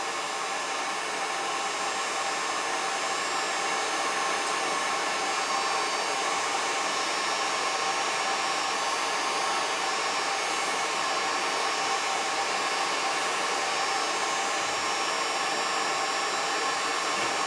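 A hot-air rework nozzle blows a steady, loud, unbroken hiss onto a chip while desoldering it from a Macintosh Performa 200 logic board, continuing evenly throughout with no voices.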